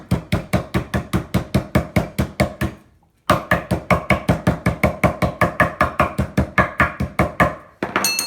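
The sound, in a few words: meat hammer pounding garlic cloves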